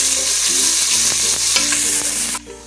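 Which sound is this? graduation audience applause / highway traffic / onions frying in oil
onions frying in oil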